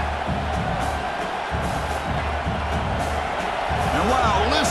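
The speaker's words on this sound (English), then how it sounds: "listen to this crowd noise. This stadium is vibrating." Stadium crowd roar in the College Football 26 video game during an Alabama vs Oklahoma playoff game, a steady loud wash of cheering with a commentator talking over it and a brief swell near the end.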